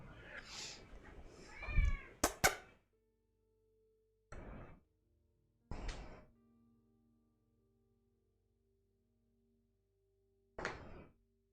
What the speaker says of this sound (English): Now the cat wants attention.